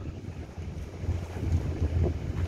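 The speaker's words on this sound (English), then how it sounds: "they have a long tail boat that pick you up and drop you off" Long tail boat ride from Naka Noi Island to Ao Por Pier near Phuket, Thailand, at evening: a steady low engine drone with wind buffeting the microphone and water splash, fairly loud and continuous.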